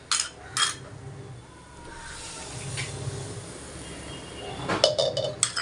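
Metal utensils clink and scrape against a pan as curd is added to a gram-flour kadhi for banana flower pakoda, a few sharp clinks near the start and a cluster near the end over a low background hiss.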